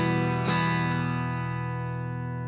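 An electric guitar played through the Nembrini Range 120 amp app on iOS with distortion: one sharp struck chord at the start, then a long sustained, buzzing tone slowly fading, alone.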